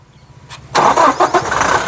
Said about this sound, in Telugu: మళ్ళీ ఒకసారి సింగిల్ సెల్ఫ్లో కార్ స్టార్ట్ అవుతుందా లేదా అన్నది చూపిస్తానండి ఒకసారి స్టార్ట్ చేయి